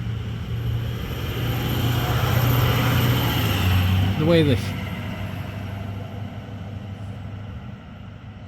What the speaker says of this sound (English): waiting for that truck to go by